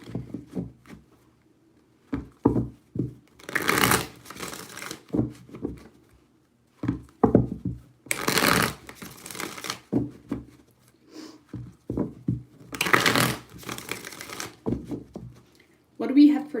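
Tarot cards being shuffled in three broad bursts of riffling and flapping, separated by quieter handling taps, with a few softer card sounds between and a voice speaking at times.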